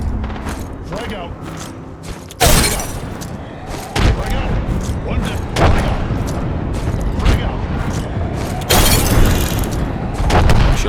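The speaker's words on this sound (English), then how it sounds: "I love to hear this guy spamming 12 grenades in a row" Repeated grenade blasts in Apex Legends, with several loud booms spread through a busy stretch of gameplay and a burst of gunfire, all under near-constant talk.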